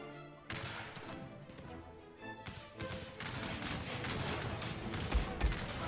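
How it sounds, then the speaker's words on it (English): Musket volleys fired by sepoys in a Crimean War strategy video game, heard as scattered and rolling bursts of gunfire that keep crackling, with a couple of heavier thumps near the end. "Tell the sepoys to turn and fire."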